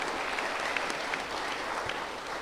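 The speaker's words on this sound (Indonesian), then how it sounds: "kita berikan tepuk tangan untuk Tuhan kita Yesus Kristus." A church congregation gathered for an Easter Sunday morning service applauds steadily and densely throughout, a continuous wash of many hands clapping at a close, even level.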